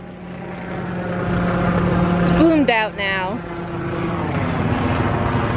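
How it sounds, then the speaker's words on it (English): A helicopter flying over a fall garden display at Hershey Gardens gives a steady droning hum that swells slightly and stays in the background while a person talks briefly over it. "And there's a helicopter."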